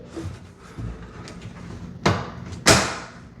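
A kitchen base cabinet drawer slides in along its glides, soft rolling rubs followed by two sharp close clicks or knocks as it locks into place.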